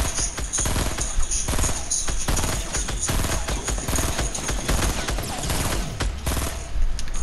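Sustained rapid gunfire in a Fortnite match, dense bursts of automatic shots and volleys layered continuously for about seven seconds, loud and busy with no speech over it.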